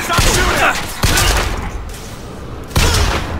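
Bursts of gunfire from the first-person shooter Bioshock Infinite come in loud, dense volleys, with a short quieter gap between them, under no clear talk.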